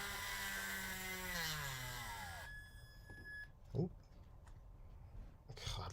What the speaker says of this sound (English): So we're going to drill a hole straight through here.